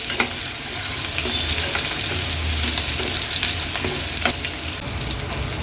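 Peeled garlic cloves and halved green chillies fry in hot oil for a fish curry, giving a steady close sizzle with crackles throughout and occasional stirring scrapes, no voices.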